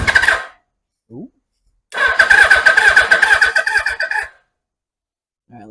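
A 1981 Suzuki GS750 motorcycle engine cranks on a new battery without choke, a rapid rhythmic churning burst of about two seconds that fails to catch, preceded and followed by brief voices and short noises.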